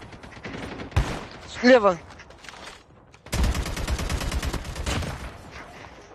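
Gunfire from the mobile shooter game Call of Duty Mobile rattles in automatic bursts, a short volley followed by a longer sustained stream of shots, with someone speaking Russian in between.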